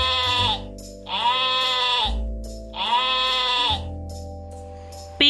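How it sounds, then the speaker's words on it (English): A ram bleats twice in long, wavering cries, loud and close, with a steady low tone running beneath and a short sharp sound at the end. "This is a ram."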